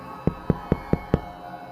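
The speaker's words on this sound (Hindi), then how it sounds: "गेट के खटखटाने की आवाज़" Five sharp knocks on a house gate at a steady, even pace, fairly close and loud, with no other sounds around them.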